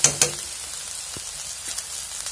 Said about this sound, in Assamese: চ' ধুনীয়াকৈ এইখিনিটা ভাজি ল'ম এতিয়া